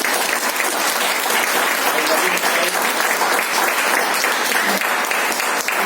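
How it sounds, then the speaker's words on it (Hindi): Loud, continuous applause from a crowd at a network marketing motivational talk, a thick, even roar of many hands clapping that holds steady throughout without voices over it. "एक जोरदार तालियां चाहूंगा।"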